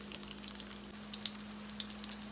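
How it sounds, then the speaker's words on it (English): Crawfish corn fritters fry in a pan with a light, steady sizzle and scattered small pops and crackles, close and fairly quiet, with no one talking. "So now we got to let them cook, and I'll flip them again."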